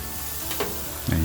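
Red wine vinegar dashed onto a rib eye steak on a Blackstone griddle, producing a steady close sizzle that flares into a louder hiss at the end.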